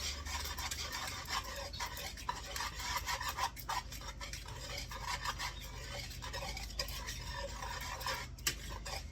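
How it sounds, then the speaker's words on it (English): Keto bun ingredients being whisked with hot water in a bowl, a quiet, continuous scraping and swishing with occasional taps of the whisk against the bowl. "now I'm just going to take a whisk and just kind of whisk this all together"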